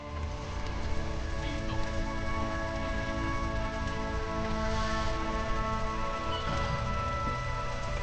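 Steady rainfall in the Disco Elysium video game, an even, constant patter with layered ambient tones and no break across the whole stretch.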